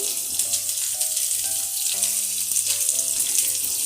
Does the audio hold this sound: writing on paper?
no